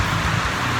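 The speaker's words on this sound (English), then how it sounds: "that weird noise is finally rain" Rain heard in a fabrication workshop, a dense, even hiss of falling drops with a low rumble underneath, steady and continuous over a brief moment.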